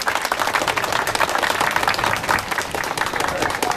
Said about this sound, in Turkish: alkışlıyoruz arkadaşlar.